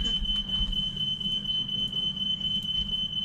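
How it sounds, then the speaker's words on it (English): A household fire alarm sounds a continuous high-pitched electronic tone that stays loud and steady the whole time, over a low rumbling background. "Fire alarm"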